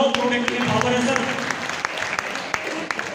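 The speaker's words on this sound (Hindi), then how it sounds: "ताली जोरदार बजाओ, प्रोडक्ट में पावर है सर।" An audience at a sales seminar on RCM products breaks into loud, scattered clapping, with a voice speaking over the applause as it continues.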